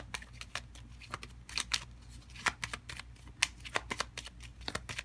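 Tarot cards are shuffled and handled in a quiet room, a quick run of crisp, papery flicks and taps at close range with no one speaking.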